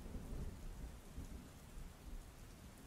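Steady rain falls with low rumbling thunder underneath, a continuous, fairly faint stormy wash with no voices.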